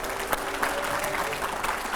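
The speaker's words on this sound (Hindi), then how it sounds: "पहले जोरदार ताली हो।" A studio audience at an on-stage interview with Baba Ramdev breaks into loud, dense applause, with steady clapping throughout.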